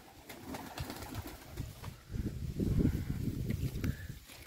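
Pigeons cooing in a dovecote, soft repeated low coos and rustling that grow fuller and louder midway, with faint shuffling steps; no talk.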